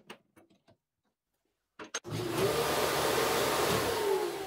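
Table saw fitted with a new 1/4 inch plywood insert plate, after a few faint handling clicks, switches on and runs with a loud, steady whir close by.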